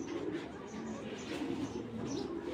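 Racing pigeon, a red checker bird, cooing softly and steadily in a loft, low burbling calls running continuously through the whole stretch.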